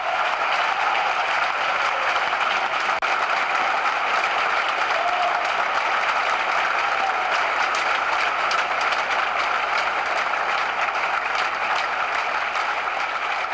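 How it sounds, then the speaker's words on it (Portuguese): A theatre audience at the Teatro Coliseu gives a standing ovation, a steady wash of clapping that holds without pause for the whole stretch, dense and fairly distant, with no voices rising above it. "o público aplaudiu de pé."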